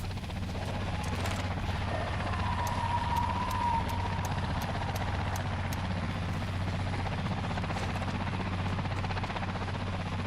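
A helicopter in the zombie game Dead Island 2 flies away, its steady rotor drone holding throughout with sharp clicks and a faint whine above.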